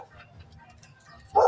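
A pet dog at home in the Philippines gives a single loud, close bark at the very end, following faint background noise.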